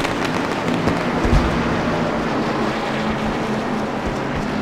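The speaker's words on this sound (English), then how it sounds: "they're shooting fireworks off right now, right in front of my camera here" Fireworks going off at a race track during an evening race, heard as a steady wash of crackling, rumbling bursts with one stronger low thump near the start, mixed into broad crowd and venue noise, with no clear talking.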